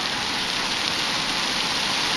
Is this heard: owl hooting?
no